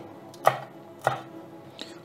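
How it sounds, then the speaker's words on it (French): A knife taps sharply on a cutting board four times at an uneven pace, chopping small chili peppers, with a faint room hum underneath. "Donc là, je coupe les petits piments."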